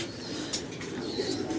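Pigeons coo softly at a rooftop loft, low murmuring calls repeating steadily under a constant hiss of background noise, with no talk.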